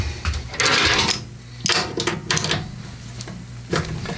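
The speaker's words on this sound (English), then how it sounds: "All right, let's loosen this bolt." Metallic clanks, rattles and short scraping bursts come from a wrench loosening a bolt on the auger housing of a green Craftsman 30-inch 11 hp Tecumseh snowblower, close up, in several separate spurts with quieter gaps between them.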